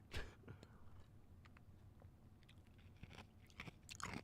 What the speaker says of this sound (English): As I crunch on some ice